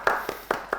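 Audience clapping at a comedy game show, four distinct sharp claps in a quick rhythm, fairly close and clear, sounding like a few hands rather than full applause.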